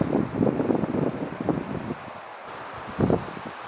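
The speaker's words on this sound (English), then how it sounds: "the wind has picked up, so it feels kind of chilly" Gusty wind blows across the microphone at a farmhouse outdoors, rising in rough buffeting bursts and then easing, with a brief renewed gust near the end and no speech.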